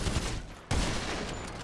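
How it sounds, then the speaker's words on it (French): A single sharp sniper rifle crack rings out in the GTA Online video game, set against a dense bed of noisy game sound in a brief, loud moment. "Ah, un coup de snipe et là ça change tout."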